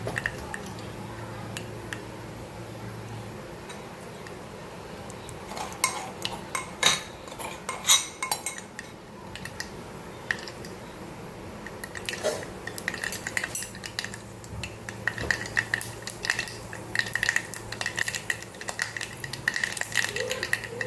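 Mustard seeds dropped into hot oil in a cooking pan give a crackling, spattering sizzle with metallic clinks of a spoon and utensils against the pan, growing busier toward the end, close and fairly loud.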